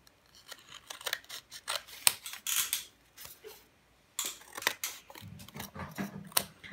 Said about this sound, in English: So I'm just gonna cut this off.